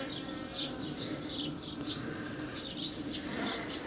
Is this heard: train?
no